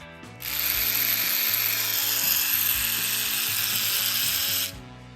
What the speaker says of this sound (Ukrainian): ось так вона виглядає на тримері. І давайте запущу, побачимо, як воно працює.